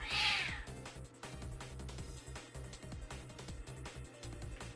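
A cat meows loudly once at the start inside a video game, followed by a continuous bed of game music and ambience with no talking.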